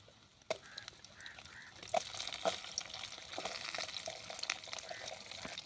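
Grated coconut sautéing in hot oil with mustard seeds and urad dal: a soft, steady sizzle with occasional faint pops and stirring clinks, quiet and close, no talk.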